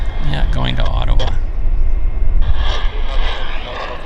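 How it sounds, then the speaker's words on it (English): Boeing 787 Dreamliner taxiing at Vancouver Airport, a steady loud jet engine drone throughout, with people talking over it and a brief radio transmission near the start. "Company Dreamliner, left to right on Juliet"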